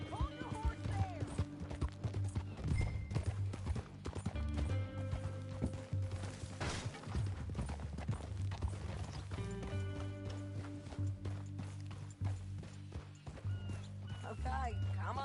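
Horse hooves clip-clopping at a steady walking pace in the Red Dead Redemption 2 video game, moderately close, heard under voices and background music with occasional mechanical clicks.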